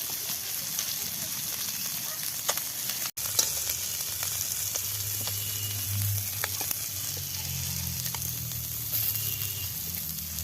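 Small puti fish fry in hot oil with a continuous close sizzle, broken by a few light clicks and taps from stirring and one brief dropout.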